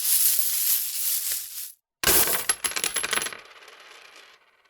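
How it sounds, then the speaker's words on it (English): A pouch of gold coins slams onto a wooden stage floor, and the coins jingle and scatter loudly in a bright metallic burst that thins into a few scattered clinks before fading. "The jingling of coins preceded a scatter of ryo"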